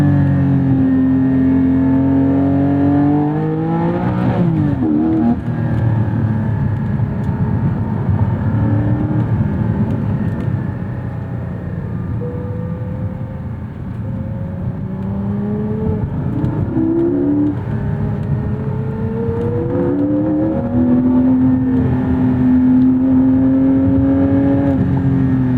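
Porsche 718 Spyder naturally aspirated engine revving hard and downshifting, loud close rising and falling engine tones with sweeping pitch changes between gears, blips around downshifts and a dip midway before climbing again.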